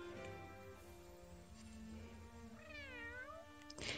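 A stray cat in the Homescapes game gives a single drawn-out, wavering meow over a soft musical backdrop, faint overall and with no talk over it.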